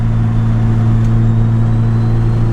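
A turbocharged 350hp B16 engine in a Honda Civic hatchback drones loudly while accelerating on the street, a steady, close, dense engine hum with no talking.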